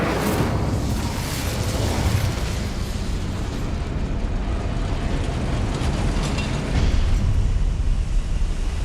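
The Incendio fire spell from the Hogwarts Legacy video game gives a dense, continuous roaring whoosh of flame with rumbling bursts, loud and unbroken throughout.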